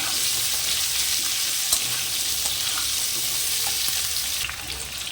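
Potatoes fry and get stirred in a pan of hot oil with whole spices, giving a steady close sizzle with occasional spatula scrapes throughout.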